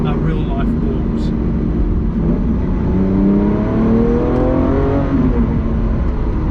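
Lamborghini Aventador SVJ engine droning steadily while driving on the road, with rising and falling pitch as it pulls through the revs and a constant loud cabin roar throughout.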